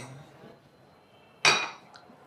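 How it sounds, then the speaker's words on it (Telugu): Roasted mustard seeds tipped into a pan with a single bright metallic clatter and rattle of seeds against the metal, close and brief, in a quiet kitchen. "ఈ ఫ్రై చేసిన ఆవాలని రోస్ట్ చేసిన ఆవాలని దీంట్లోకి వేసుకున్నాం"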